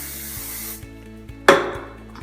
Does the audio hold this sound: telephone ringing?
no